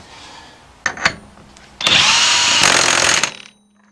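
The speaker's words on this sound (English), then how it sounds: "Now we're going to tighten up that nut." A power tool, likely an impact gun, runs in a short burst then a sustained whir about a second and a half long, tightening the nut on the secondary pulley of a JF011E/RE0F10A CVT transmission during a bench rebuild; close and loud.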